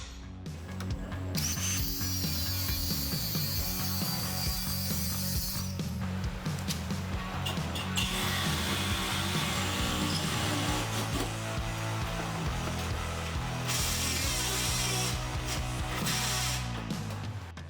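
A power tool cuts dimensional steel plate for a rusty 1972 Corvette chassis frame rebuild, a loud, continuous harsh grinding and whining with shifting pitch that runs throughout, with no talking.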